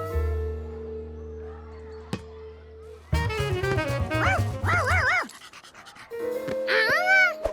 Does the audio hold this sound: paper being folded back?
no